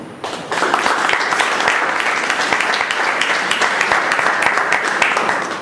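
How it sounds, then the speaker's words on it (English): Audience applause for speakers and evaluators at a speaking club meeting, starting abruptly after a brief pause and holding as a loud, dense, close wash of clapping that eases slightly at the end. "A big round of applause to all the speakers and all the evaluators"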